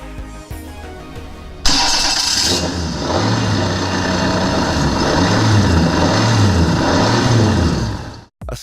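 A Duke axial engine, a compact, light, smooth-running, almost vibration-free design without a conventional cam and valve arrangement, starts with a sharp catch and then runs loud and close with a steady hum and gentle rhythmic revving.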